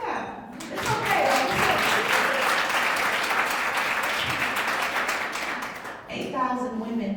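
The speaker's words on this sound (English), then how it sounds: "Why don't we clap?" An audience at a chamber of commerce keynote breaks into applause, a thick wash of clapping that builds quickly and holds steadily, then thins out as a voice returns near the end.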